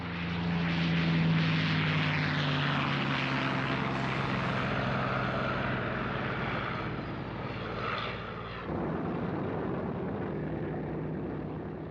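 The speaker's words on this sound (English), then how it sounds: "His B-29s now had the benefit of long-range escort fighters, P-51s from Iwo Jima." Piston engines of WWII propeller aircraft, B-29 bombers escorted by P-51 fighters, drone in a dense, steady roar that dips slightly partway through, with no talk.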